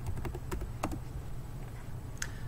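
Quick bursts of clicky keystrokes on a computer keyboard while typing commands into a command-line interface, close and crisp over a low background rumble, then a brief pause and one last tap.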